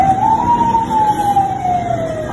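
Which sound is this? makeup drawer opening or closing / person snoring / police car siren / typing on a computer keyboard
police car siren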